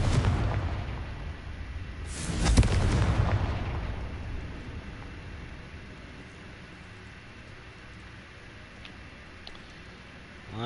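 A Confringo fire spell explodes in Hogwarts Legacy, one heavy low boom erupting and then rumbling away as it fades, with faint game ambience continuing under it.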